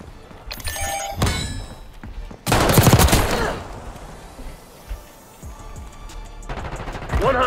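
Shotgun blasts in a Call of Duty-style Search and Destroy match, a few heavy booming shots spread across the stretch among other game noise and clattering effects, loud and close.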